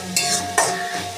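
Red amaranth greens with onion, garlic and turmeric stir-fried in a pan, two scraping strokes of a spatula over a soft sizzle, close and brief.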